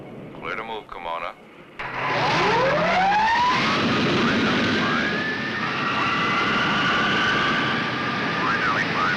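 Military jet aircraft taking off, following brief radio chatter: a loud engine roar builds suddenly and is sustained, with rising and falling whine tones as it accelerates down the runway.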